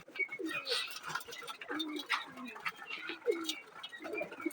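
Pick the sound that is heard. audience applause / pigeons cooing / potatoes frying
pigeons cooing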